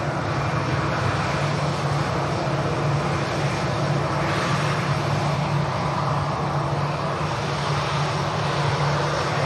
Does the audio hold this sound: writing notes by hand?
no